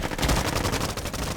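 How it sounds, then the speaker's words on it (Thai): Rapid bursts of gunfire crackle continuously in a Roblox shooting game, a fast machine-gun rattle that stays loud throughout with no pauses. "ไปยิงปืนหน่อย"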